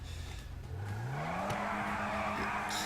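A Nissan Skyline in GTA 5 revs up with a rising engine note, then settles into a sustained tire squeal and skid, close and loud, with a brief knock midway.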